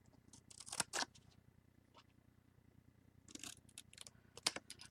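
Scissors cut a scored square out of paper for a Mint Jubilee scrapbook album, giving a few quick, close snipping bursts separated by short quiet gaps.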